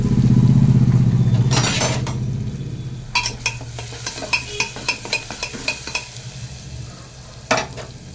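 Spices frying in a pan, opening with a low humming rumble, then a quieter sizzle under a run of sharp, evenly spaced spoon scrapes and taps against the pan, close and without speech.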